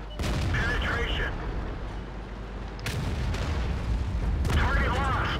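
A tank cannon in a tank video game fires in a sequence of heavy reports, with loud sharp blasts at the start, in the middle and near the end, each trailing into rumbling battle noise.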